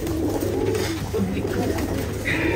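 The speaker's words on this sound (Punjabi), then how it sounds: "ਲੋ ਜੀ ਆ ਭਾਈ ਦੇ ਕਬੂਤਰ ਨੇ" Pigeons coo softly in a steady, low burble with occasional rustling, continuous throughout with no talking.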